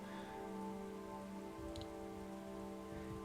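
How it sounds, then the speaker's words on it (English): Rain falls steadily outside, a soft continuous patter and wash heard indoors beside a steady electrical hum, with no voices. "Oh damn, it's raining outside now."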